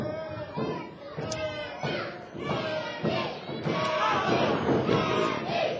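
A wrestling crowd at an NWA Atlanta match chants a wrestler's name in a steady repeated rhythm, loud and close, with scattered thumps and general crowd noise underneath.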